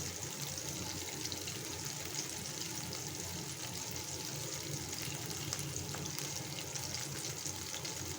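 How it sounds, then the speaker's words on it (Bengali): Nigella seeds tossed into hot oil left from frying prawns, giving a steady, dense sizzle and crackle that holds at an even level with no talking over it. "এই তেলেই আমি আবার ফোড়ন দিয়ে দেব। সামান্য একটু কালি জিরা ফোড়ন দিয়ে দিচ্ছি।"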